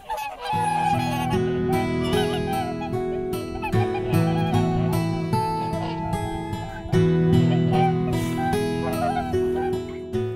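A flock of whooper swans in Hokkaido calls continuously with loud, overlapping honking and bugling notes, several birds close by, and no voice.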